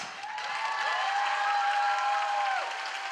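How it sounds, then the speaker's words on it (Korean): A concert crowd cheers and applauds at a metal show, forming a loud, continuous wash of clapping and shouts with a sustained ringing tone riding on top throughout. "관객들의 환호와 함성이 그칠 줄 모릅니다."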